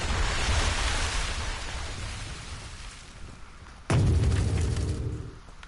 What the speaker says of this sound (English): I think I threw one of those enrager grenades.